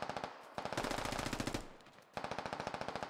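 Automatic gunfire in the tactical shooter game Squad rattles in rapid, close bursts, one long burst followed by a short lull and another run of sharp, evenly spaced shots.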